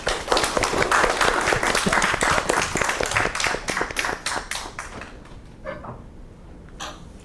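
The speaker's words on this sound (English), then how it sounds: "Can I have a round of applause for Dr. Megan Crawford" A panel audience at an event on AI and the automotive industry gives a round of applause, dense clapping that loosens into separate claps and dies away, ending in near silence with a couple of stray claps.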